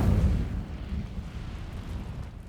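Incendio fire spell cast in Hogwarts Legacy, a low rumbling whoosh of flame that starts loud and settles into a sustained roar with faint crackle.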